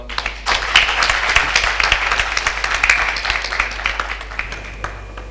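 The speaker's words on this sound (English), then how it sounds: "A huge round of applause for me." A conference audience applauds at a retail anti-fraud and counterfeiting event: a steady round of many hands clapping that swells quickly, holds for about four seconds and then fades out.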